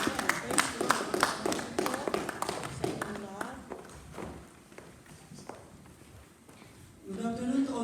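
Congregation clapping in praise at a church Sunday service, a burst of sharp, fairly close claps that thins out and fades over several seconds before a voice begins speaking.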